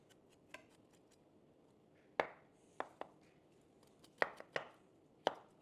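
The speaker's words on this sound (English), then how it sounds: "You're going to have to cut the top of the bell peppers" A knife chopping bell peppers on a cutting board: several sharp, distinct thuds spaced irregularly, close and clear against a quiet background, with no talking.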